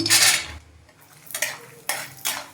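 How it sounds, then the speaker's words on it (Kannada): Peanuts tipped into a hot pan for tomato rice, then stirred: a bright rattling scrape at first, followed by quieter sizzling and a few sharp scraping strokes of a spoon against the pan. "ಶೇಂಗಾ ಬೀಜ ಹಾಕ್ತಾ ಇದ್ದೀನಿ."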